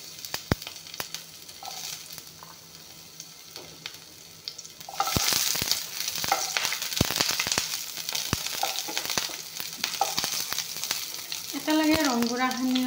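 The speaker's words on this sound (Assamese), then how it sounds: "পিঁয়াজখিনি প্ৰথমতে ভাজি ল'ম" Onions hit hot refined oil in a wok and burst into a loud, continuous sizzle that runs on under intermittent stirring clatter.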